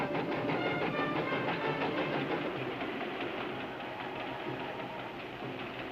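A train rolls past in an old western setting near Coyote Canyon, a loud, steady rumble with continuous clickety-clack of wheels on rails, heard alone from start to finish.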